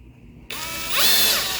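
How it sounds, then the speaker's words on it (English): A power drill drives a screw into a door strike plate: it starts sharply as a whirring, ratcheting tool sound, rises in pitch and loudness as it spins up, and holds steady, close and alone. "We'll put one screw in here to tack this in."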